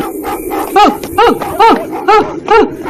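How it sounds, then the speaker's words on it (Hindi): A dog barks in a series of five loud, evenly spaced, yelping barks while chasing someone at night, close and prominent over a quiet background. "अचानक एक कुत्ता उसके पीछे भौंकते हुए पड़ गया।"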